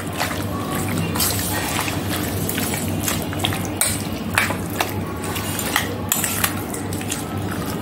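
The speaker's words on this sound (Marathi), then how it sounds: "मी चांगलं मिक्स करून घेते, मीठ हळद व हिरवं वाटण आपलं चांगलं लागेल." Chicken being mixed with salt, turmeric and green masala paste for kala chicken, with soft wet squelching and light clinks of a spoon against a pot in a kitchen, irregular and close, and no talk over it.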